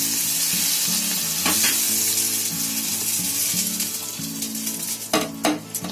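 Hot tempering with asafoetida poured into homemade lemon pickle, giving a steady loud sizzle with stirring scrapes, flaring into sharper crackles near the end, with no voices.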